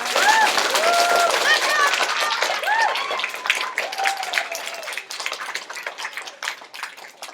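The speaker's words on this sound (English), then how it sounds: "Guys, round of applause for Noah" Applause from a group of girls during a Skype call, dense clapping loud at first and thinning out over several seconds, with children's voices calling out over it.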